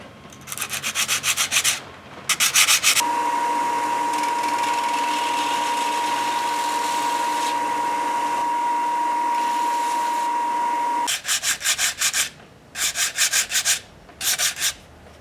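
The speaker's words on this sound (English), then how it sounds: "Now I'm just going to sand that down." A fishing lure's patch being sanded down smooth: short rasping strokes up close, then a long steady whirring stretch, then more rhythmic scrubbing bursts near the end.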